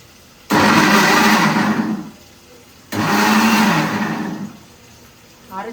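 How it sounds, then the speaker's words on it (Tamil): A kitchen mixer grinder whirs loudly and close in two short pulses, each about a second and a half, separated by a brief pause. "டேஸ்ட் கொடுக்கணும்னு சொல்கிறதுக்காக மிக்சியில் அரைச்சி"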